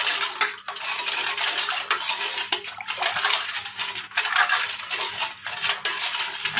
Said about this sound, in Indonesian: Lalu tentunya kita aduk-aduk dulu sebentar.